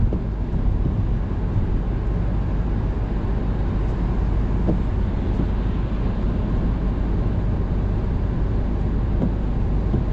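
Steady, loud low-frequency road and engine roar inside a car accelerating in fifth gear along a motorway after merging, with constant wind buffeting and no audible change in pitch or interruptions.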